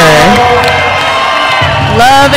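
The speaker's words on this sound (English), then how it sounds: "The crowd is on their feet, going insane for Denver." A roller derby crowd roars and whoops for Denver, loud and close. Shouts and cheers pile over one another without a break, and one voice calls out above the din.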